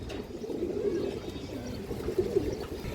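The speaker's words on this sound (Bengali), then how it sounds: "এই যে মাদিগুলো দেখেন অনেক সুন্দর মাদি কবুতর।" Female pigeons of fancy breeds such as satin coo steadily nearby, soft repeated throaty calls overlapping in a low, continuous murmur with light background noise.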